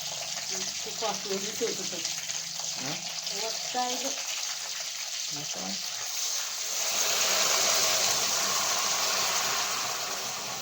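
Brief talk and clinking give way to a steady rush of water poured into a pot, filling the last few seconds with a broad splashing hiss.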